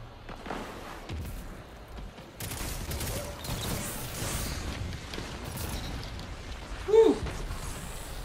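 Rapid bursts of hand cannon gunfire in Destiny 2 PvP crack over a busy, rumbling background, with a sharper louder shot near the end.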